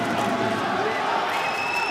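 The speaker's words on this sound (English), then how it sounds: "a good number of Indians, it would seem here, cheering their man on" A boxing arena crowd at a world championship quarter-final in Doha roars continuously in support of an Indian boxer, a dense, sustained wall of cheering and shouting with no pauses.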